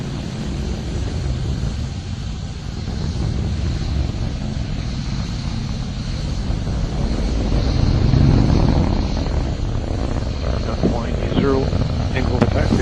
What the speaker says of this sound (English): RD-180 is continuing to operate well.